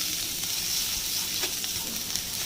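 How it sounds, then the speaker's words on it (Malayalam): Finely chopped garlic sizzles in hot oil left from frying carrots and potatoes for a beef caldereta, a loud, continuous, close crackling hiss with no talking. "ക്യാരറ്റും ഉരുളക്കിഴങ്ങും ഫ്രൈ ചെയ്തെടുത്ത അതേ എണ്ണയിൽ തന്നെ നമുക്ക് പൊടിയായിട്ട് അരിഞ്ഞ് വെച്ചിരിക്കുന്ന വെളുത്തുള്ളി ഇട്ട് കൊടുക്കാം."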